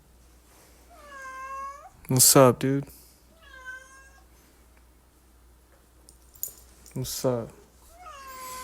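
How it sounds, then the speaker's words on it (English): A house cat meowing in a bedroom, several drawn-out meows spaced apart and fairly close, alongside someone speaking to it in short phrases. "Here comes my fucking bitch ass cat."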